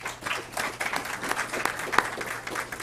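Audience applause at a college signing day ceremony, a brief burst of many hands clapping at moderate distance, steady and dense throughout.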